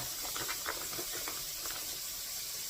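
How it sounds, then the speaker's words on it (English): Steak hitting a hot pan gives a steady, hissing sizzle that stays fairly even for a few seconds, with faint crackles through it. "we're going to get that steak put into the pan"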